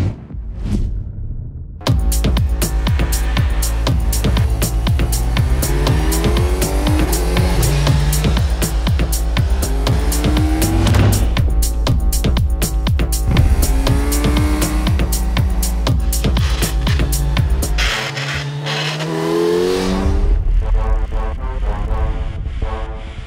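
A 2025 Kawasaki Z900 four-cylinder motorcycle rides through a series of corners, its engine droning loud and steady with rising and falling pitch as it shifts and leans, ending with a brief revving swell near the close.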